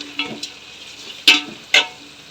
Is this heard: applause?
no